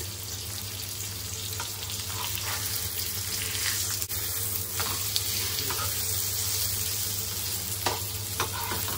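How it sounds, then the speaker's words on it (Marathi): Pomfret fish frying in oil in a pan, a dense continuous sizzle up close with a low steady hum beneath and occasional faint scrapes, no talking. "ह्या साईडने आपण 2 मिनिटं तळून घेऊया, नंतर पलटी करूया।"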